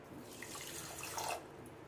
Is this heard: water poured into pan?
yes